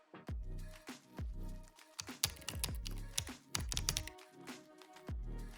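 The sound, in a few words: typing on a computer keyboard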